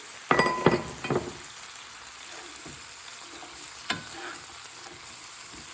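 Black beans tossed into a hot pan with stuffing mix for stuffed poblano peppers, a few bright sizzling bursts and clinks of stirring up front, then a low steady fry with one more stir later.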